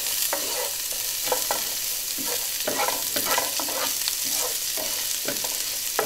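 Garlic and onion sauté and sizzle in a hot pan for an Indian aloo gobi, a steady fry with repeated scraping stirs, close and fairly loud, no voices.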